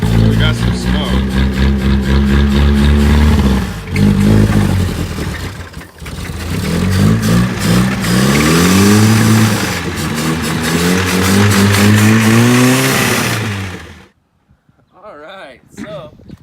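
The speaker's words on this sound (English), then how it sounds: "at least we got a running engine" A 1974 Datsun 620 engine runs and revs repeatedly up and down, loud and close, with a rough, smoky tone. Voices talk over it, and the engine cuts out near the end, leaving faint talk.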